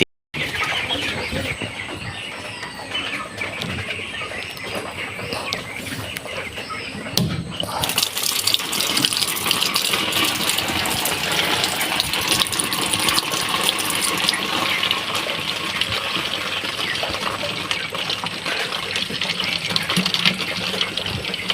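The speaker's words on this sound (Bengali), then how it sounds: "তারপরে পানি পরিমাণ মতো পানিটা দিয়ে দেবেন" Water pours steadily into a bottle to mix a poultry cold-care medicine, a long continuous gushing fill that grows louder partway through, with birds audible in the background.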